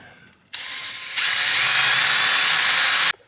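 A power drill whirs loudly at close range for about two and a half seconds, its pitch climbing partway through before it stops abruptly, during electrical work on brick.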